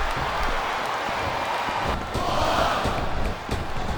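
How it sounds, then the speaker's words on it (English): A capacity arena crowd at a WWE American Bash wrestling video game match between Carlito and Torrie Wilson roars steadily, a constant broadband din at even level with a slight swell partway through. "It sounds like this capacity crowd has something on their minds, Taz."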